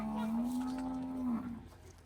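A Cholistani cow gives one long, close, sustained moo that fades out at the end, heard alone on a farm in the evening.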